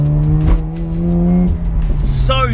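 A Mazda RX8 with a naturally aspirated rotary engine and standard bar and exhaust revs loudly and steadily, its pitch climbing slightly before a sharp high squeal near the end, with no talking over it.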